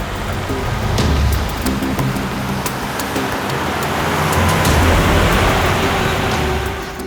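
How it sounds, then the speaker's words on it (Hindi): A car drawing near at night amid steady rain, the engine and tyre hiss swelling over rainfall to a close pass before easing off slightly. "सर, गाड़ी की आवाज सुनी आपने?"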